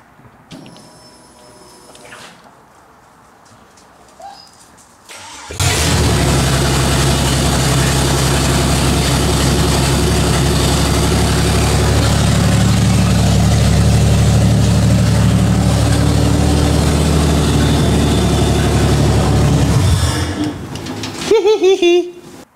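A Holden EH panelvan's V6 engine with no exhaust or muffler cranks, fires and idles loudly and raw for about fifteen seconds, a rough, steady drone, then shuts off; quiet talk comes before and after.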